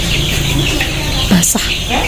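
Sick 32-day-old chickens with respiratory snoring illness and coli, a brief cluck or squawk standing out over a constant background of farm hum and faint bird noise, with talking around it.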